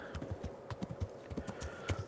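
Horse hooves clip-clop steadily in a riding scene in the PS5 game Kingdom Come: Deliverance, a quick even gait, close and clear with no talk over it.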